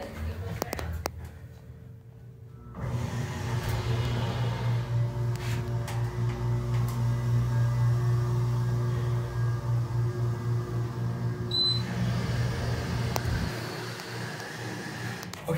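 Otis HydroFit hydraulic elevator at a shopping mall running: a steady low motor hum with a hydraulic whine holding for about eleven seconds, beginning after a near-silent start and stopping near the end, with a faint chime.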